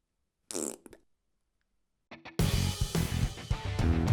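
A person imitates a fart with their hair in a brief rasping burst, then silence, followed by loud music and noisy sounds starting a couple of seconds later.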